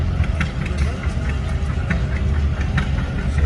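A 560 Wheatland tractor with a 282 diesel engine idles steadily at a tractor pull, a loud continuous low rumble with faint background crowd noise.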